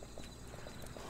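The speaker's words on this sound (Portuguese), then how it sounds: "Cavalo." Horse hooves clip-clop in the video game Kingdom Norse Lands, a light, steady run of evenly spaced knocks that is faint and continuous over a soft ambient background.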